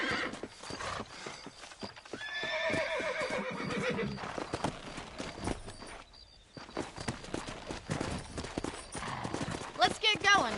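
Hooves clip-clop steadily in Red Dead Redemption while a horse whinnies loudly in a long, wavering call, with a second neigh near the end over a busy background.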